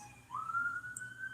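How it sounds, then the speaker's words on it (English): An emergency siren wails faintly in the distance, a thin tone sliding upward and then holding a long, slowly rising pitch. "Sorry about the sirens."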